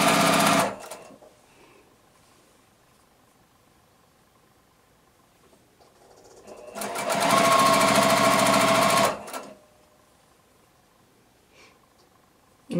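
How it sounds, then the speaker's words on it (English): A sewing machine stitching quilt block pieces whirs in two runs, a short one at the start and a steady two-second burst later, with quiet pauses between them. "So now I can take this to the sewing machine and put my block together."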